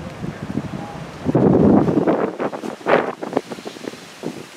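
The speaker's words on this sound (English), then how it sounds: "Very windy out right now." Strong gusting wind on a coastal marsh boardwalk at Pine Knoll Shores, North Carolina, buffeting the microphone, with surging roars and rustling, rising and falling in loudness throughout.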